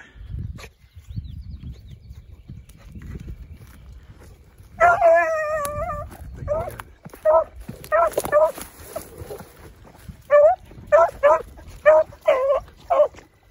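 An 8-month-old beagle and other hounds bay and howl in repeated bursts, a chorus of baying dogs on a chase, with quieter rustling and low noise between the volleys.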